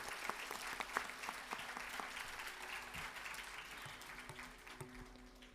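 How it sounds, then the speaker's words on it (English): A crowd applauds steadily at a Bharatanatyam dance arangetram, a dense wash of many hands clapping in a hall, sustained and moderately loud with sharper individual claps poking through. "So I invite you all to join me in giving a round of applause to this all-rounded family"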